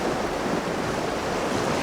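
Ocean surf rolling onto a shore, a dense, steady roar of breaking waves with wind noise blended in, no voices.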